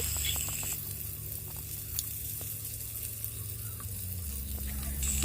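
Fried cauliflower and potato pieces crackle in a hot pan with seasoning, a steady close sizzle broken by scraping stirs and light ticks, with no one speaking.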